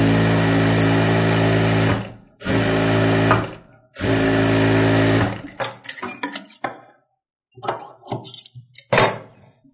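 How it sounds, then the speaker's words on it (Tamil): A sewing machine runs in long, steady stitching bursts along the edge of a saree blouse lining, pausing briefly between runs, then gives way to scattered clicks and handling of fabric and tools nearby. "லைனிங் எடுத்து விட்டுட்டு ஓரத்தில் தையல் போட்டுக்கோங்க"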